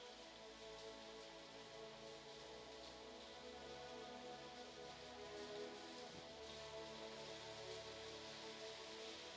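Steady rain falls continuously, a dense even patter on surfaces with no voices, heard outdoors during a large religious retreat gathering.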